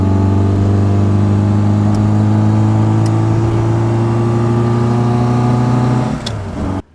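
A Reliant Rialto GLS three-wheeler's engine pulls hard at full throttle, a loud, steady, close drone with strong low harmonics that holds for about six seconds before dropping away as the throttle lifts.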